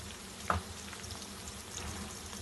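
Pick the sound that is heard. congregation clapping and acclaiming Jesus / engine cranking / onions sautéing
onions sautéing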